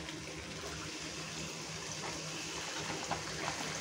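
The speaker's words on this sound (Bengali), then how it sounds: "এখন আমি এখানে করে দিচ্ছি হোয়াইট ভিনেগার" White vinegar is poured into a bowl of raw green mango pickle made with jaggery, a steady gentle liquid pour with a soft continuous trickle and faint clinks, no talking.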